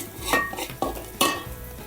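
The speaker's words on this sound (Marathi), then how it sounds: "तर आम्ही इथे या घरचा मालवणी मसाला घालतोय" Homemade Malvani masala is stirred into hot oil in a pan over a wood-fired stove for a fresh cashew gravy, with a soft sizzle under three or four sharp spoon scrapes against the pot, close and alone.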